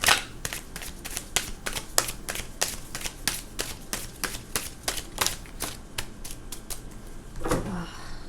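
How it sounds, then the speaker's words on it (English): Tarot cards are shuffled by hand in a steady run of sharp, crisp riffling flicks, close and fairly loud, with a few quieter shuffles and one final burst near the end, no talk. "That didn't feel like a proper shuffle."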